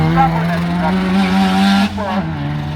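A Mini John Cooper Works racing at an autocross circuit, engine droning and shifting pitch as it drives hard past, heard under a commentator's voice.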